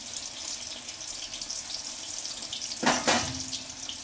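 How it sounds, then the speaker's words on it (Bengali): Boiled potatoes frying in a pan for a vegetable biryani, a steady close sizzle throughout with a brief louder burst of spattering near the end; no talking. "আস্তে আস্তে ভেজে ভেজে তুলি,"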